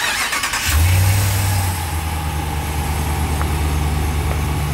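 A pickup truck engine turns over and settles into a steady low idle, a loud continuous rumble close by, with no voices.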